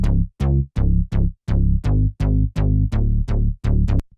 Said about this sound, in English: The two basses sound like this together.